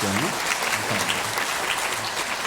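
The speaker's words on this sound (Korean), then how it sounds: "여러분 큰 격려 박수 한번 보내주세요" A church congregation claps for the choir during a worship service, steady dense applause throughout, with brief voices underneath.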